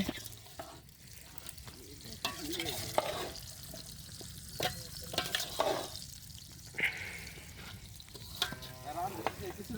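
Meat frying in a pan at an outdoor village picnic cookout, crackling sizzle with repeated stirring scrapes, fairly close, under faint background sounds.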